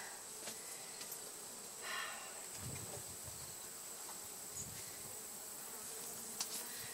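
Honeybees hum steadily around a hive box during preparation for a honey harvest, a faint continuous buzz with individual bees droning past the microphone now and then.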